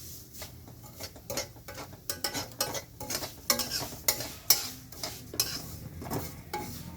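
A spoon scrapes and clicks repeatedly against a pan as dry vermicelli is stirred and roasted for semiya kesari, with a faint sizzle underneath and no talking.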